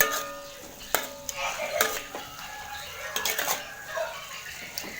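Chicken noodle topping being stirred in a metal pan, with clinks and scrapes of the utensil against the pan in short bursts, close and moderately loud over a faint background.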